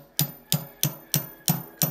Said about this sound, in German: dann nehme ich mir hier einen Hammer. Ich weiß es nicht. Ich mache das immer ganz so vorsichtig ein bisschen reinkloppen.